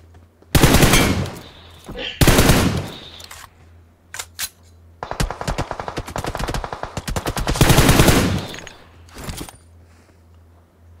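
Rapid automatic gunfire in a chaotic shooting video game, loud bursts of machine-gun fire broken by short pauses and scattered single shots, repeating across the whole stretch with no talk over them.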